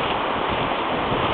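Ocean waves on the beach at Ubatuba on Brazil's north coast give a continuous, loud, rushing wash of surf with a slight wind roar and no distinct breaks or voices.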